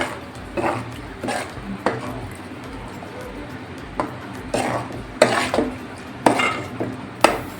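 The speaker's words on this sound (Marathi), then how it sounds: "आपण याच्यामध्ये टाकणार आहोत हे तांदळाचं पीठ ते असं थोडं थोडं करून टाकायचं हलवत राहायचं आहे आपल्याला" Rice flour is stirred in a pan as it is added for modak dough, with repeated scraping and clinking strokes against the pan at an uneven rhythm, loud and close.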